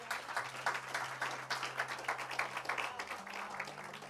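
Faint applause from a church congregation, a soft steady patter of clapping heard at a distance under a low sustained musical hum.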